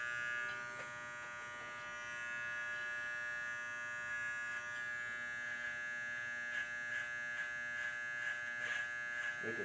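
An electric hair clipper buzzes steadily at close range while cutting a taper on a mannequin head, its constant hum broken by slight changes in tone as the blade moves over the hair.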